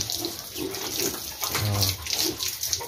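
Water splashes and runs steadily as young piglets about ten days old are bathed on a pig farm, with faint squeals and snuffling mixed into the constant close splashing.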